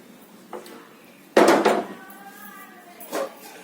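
Malai laddu mixture of milk powder, maida flour and sugar powder stirred in a hot pan: a spoon scrapes and clanks against the metal, with one loud scrape in the middle and softer strokes around it.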